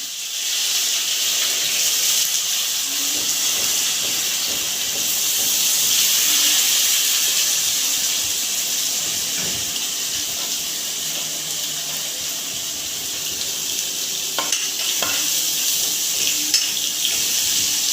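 Onion tossed into hot oil with cloves for a chicken angara dish, a loud continuous frying hiss running throughout with faint scattered clinks.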